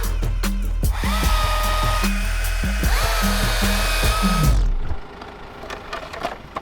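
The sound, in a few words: chainsaw cutting fallen tree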